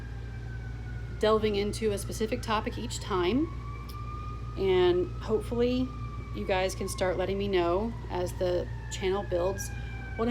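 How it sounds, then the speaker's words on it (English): An emergency siren wails in the background, its long tone slowly sliding up and down, while a person keeps talking close by. "Sorry about the siren."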